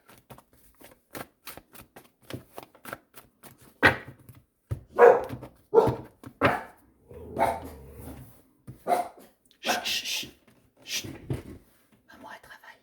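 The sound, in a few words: small dogs barking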